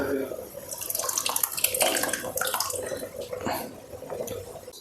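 Water poured into a pot of home-cooked Telugu-style fish curry (chepala pulusu), a running splashing gush that rises and falls over several seconds, fairly close, with a voice speaking faintly underneath.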